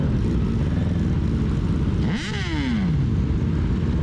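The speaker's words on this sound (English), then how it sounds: "That guy's bike's so loud." A loud motorcycle engine nearby revs once, sweeping sharply up and then dropping back down midway through, over a constant background of idling traffic.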